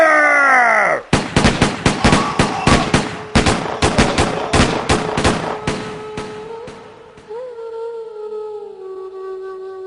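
A volley of film gunfire from a firing squad: a loud burst of rapid, closely spaced shots over several seconds following a shouted order, fading into a sustained groan-like tone at the end.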